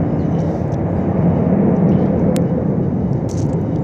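Airplane, one of several costing about 1.5 billion dollars each, flying low over a town during an air show, heard as a loud continuous broadband roar that holds steady throughout.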